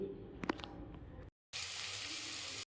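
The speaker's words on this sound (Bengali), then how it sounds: "চিকেনটা ভালো করে ভেজে তাতে রসুন কুচি পেঁয়াজ কুচি দুটো দিয়ে দিয়েছি দিয়ে ভালো করে আমি এখানে ভেজে নিচ্ছি" Chicken frying with chopped garlic and onion in a pan, a close crackling sizzle broken by a brief silence, then a louder dense hiss.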